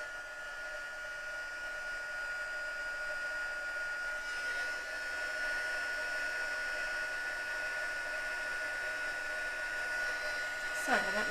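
A heat tool heat-setting ink blows steadily with a constant whirring hiss, close and unbroken for the whole stretch, its tone shifting slightly partway through.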